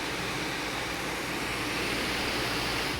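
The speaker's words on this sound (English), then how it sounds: "If your MSI Katana laptop is incredibly slow and your fans sound something like this" The fans of an MSI Katana laptop choked with dust and with hardened thermal paste run loud. They give a steady, broadband whoosh that holds at one level throughout, with no talking.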